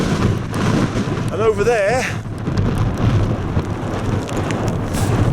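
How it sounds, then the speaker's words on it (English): Wind buffets and roars across a fell summit above Windermere with rain, a constant rough rumble under someone speaking. "It's windy and there's some rain,"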